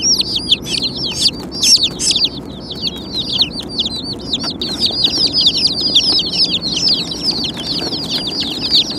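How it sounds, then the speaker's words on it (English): Mail-order baby chicks, among them a small black chick, peep constantly in a dense chorus of high, rapid chirps close by, rising and falling in busy bursts over a low background rumble. "There's a little black chicken."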